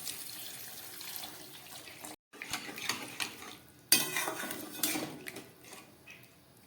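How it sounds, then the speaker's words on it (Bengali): Water pours into a pan of fish curry masala, with splashing and a brief stirring clatter against the pan, close and moderately loud, no voices. "এবার দিয়ে দিচ্ছি পরিমাণ মতো জল।"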